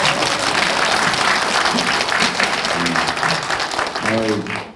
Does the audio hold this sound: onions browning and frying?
no